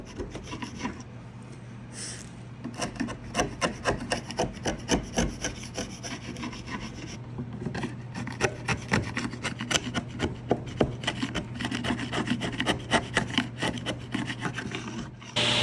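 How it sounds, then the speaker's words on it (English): A chisel pares wooden rabbets on drawer parts, making a run of fast, rhythmic, close rasping strokes with short pauses between passes. "I cleaned them up as best I could with a chisel to get them even."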